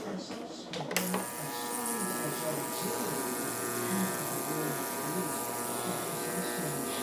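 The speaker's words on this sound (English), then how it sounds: "Ultrasonic cleaner." Ultrasonic cleaner running with a steady high buzzing whine after a brief clatter at the start, used while cleaning a stuck Moen shower faucet part; continuous and fairly quiet.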